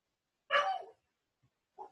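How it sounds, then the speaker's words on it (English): A dog gives a single loud bark close by, followed by silence and then a couple of softer yips or whimpers near the end. "My dog just scared the daylights out of me."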